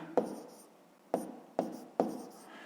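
A pen on paper writing out a fifth-grade maths exercise, four separate bursts of short scratchy strokes, each starting with a tap and fading, close and quiet with no talking.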